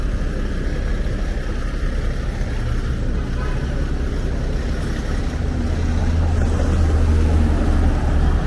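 A truck hauling a load rumbles past on Bay Street near College Street in Toronto, a steady low engine drone amid city traffic noise that swells toward the end as it draws close, with no talk.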